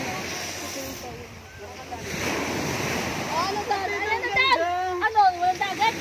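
Sea waves wash against a rocky beach at a resort, a broad rushing surge with wind buffeting the microphone, while people talk excitedly over it in the second half.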